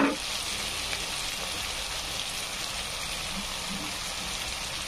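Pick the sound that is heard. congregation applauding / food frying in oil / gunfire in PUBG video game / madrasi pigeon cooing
food frying in oil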